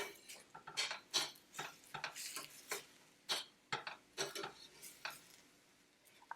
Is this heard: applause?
no